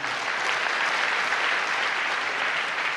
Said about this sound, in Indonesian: Saya rasa tepuk tangannya bisa lebih hebat dari Edi.